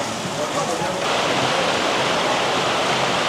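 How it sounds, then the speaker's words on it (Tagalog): Heavy rain pouring down at a hostel in Cambodia, a loud, dense, continuous wash of noise that grows fuller after the first second, with no voices. "Oh, ang lakas ng buhos ng ulan."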